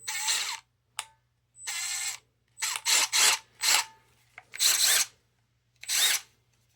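A cordless power drill revving in a rapid series of short bursts, close and loud, the motor whirring on and off about eight times in quick succession.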